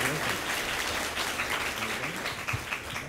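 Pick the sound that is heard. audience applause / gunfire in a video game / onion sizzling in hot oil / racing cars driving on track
audience applause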